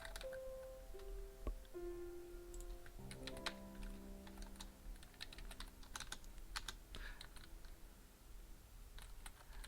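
Code being typed on a computer keyboard, a steady run of faint, close key clicks with a few tonal beeps early on.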